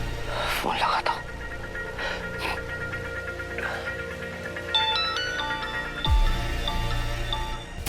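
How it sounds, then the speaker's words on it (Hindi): A phone ringtone plays a repeating electronic melody at moderate volume over quiet background noise, with a few short clicks and knocks. "फोन लगाता हूँ।"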